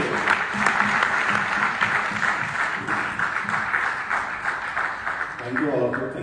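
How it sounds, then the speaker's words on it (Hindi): An audience at an anniversary event in Thailand breaks into loud, sustained applause, with dense rhythmic clapping from many hands throughout. "जोरदार तालियां होनी चाहिए अनूप के लिए"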